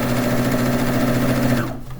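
A sewing machine runs steadily while sewing a quilt border, its loud, even motor hum and rapid needle chatter continuing for about two seconds before stopping abruptly.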